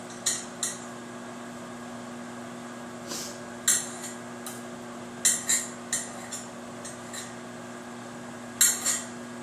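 Sharp knife taps on a cutting board as mushrooms are diced into tiny pieces, in sparse, uneven clusters over a steady low hum, fairly quiet and close.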